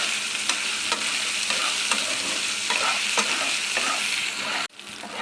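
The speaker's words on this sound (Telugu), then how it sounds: "అవుతున్నప్పుడు ఒక 1/2 స్పూన్ సాల్ట్, ఒక 1/2 స్పూన్ పసుపు వేసుకొని ఫ్రై చేసుకోవాలండి." Taro root (arbi) frying in a pan with salt and turmeric, a loud, steady sizzle with regular scraping stirs of a spatula about once a second, close by and with no voices, until a brief break near the end.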